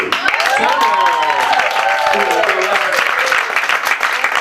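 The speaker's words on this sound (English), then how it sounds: "Let's give a round of applause for Miss Monique." A stage play audience in a theatre gives steady, loud applause for the stage manager, continuous throughout, while a voice speaks and calls out over the clapping.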